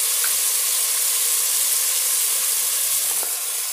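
Chopped tomato and brinjal pieces hit hot oil in a pan for veg biryani, giving a loud, continuous hiss and sizzle with no voices.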